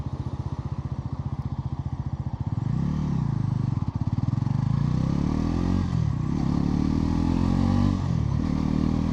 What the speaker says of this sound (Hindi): इसमें स्लीपर क्लच है, इसलिए फर्स्ट गियर से ही शुरुआत करेंगे और देखते हैं गियर कैसे चेंज होता है।